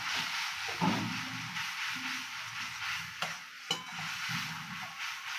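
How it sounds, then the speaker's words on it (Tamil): Flour powder is stirred into hot jaggery syrup in a pan, a soft continuous scraping and sizzling texture with a few sharp spoon clicks against the vessel, fairly quiet and without talk. "இந்த பொடியை வந்து கட்டி இல்லாமல் நல்லா கிளறிடலாம்"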